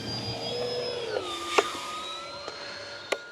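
An E-flite P-47 Razorback RC plane on a 3S pack takes off from mown grass, its electric motor whining steadily and shifting pitch as it speeds up, with a few light knocks.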